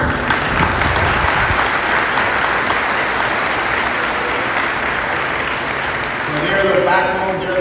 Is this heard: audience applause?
yes